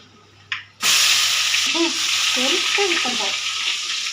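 Ground onion paste dropped into hot oil with fried fenugreek seeds for a Tamil fish curry, bursting into a loud, steady sizzle after a brief clatter, with a voice talking briefly over the frying.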